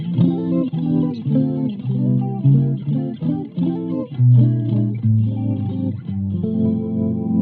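Electric guitar played through a shimmering chorus effect, strumming chords and short riffs in a steady rhythm, clear and upfront with no talking.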